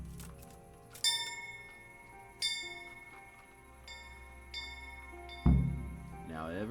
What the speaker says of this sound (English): Let's ring this bell though.